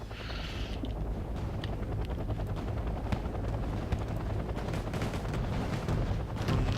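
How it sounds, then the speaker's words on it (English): Helicopter hovering and firing a 40mm grenade launcher in the Wargame Airland Battle video game, a continuous rotor drone under repeated rapid thuds and distant gunfire crackle. "Heavy Hog moving up. Gonna fire its little 40mm grenade launcher"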